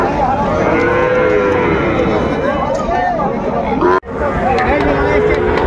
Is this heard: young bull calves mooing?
yes